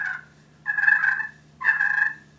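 A Ring Zone turkey call produces two soft, rolling purrs, each lasting about half a second and separated by a short pause, close and clear over a low steady hum.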